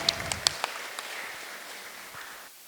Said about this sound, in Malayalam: മാമിന് ഒരു നല്ല കയ്യടി കൊടുക്കണം.